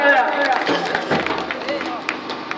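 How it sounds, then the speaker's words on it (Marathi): Loud applause from a crowd for the Sadavali team at the Sangmeshwar Bhelevadi palanquin competition, a dense steady clatter of clapping with a voice speaking over it. "जोरदार टाळ्या"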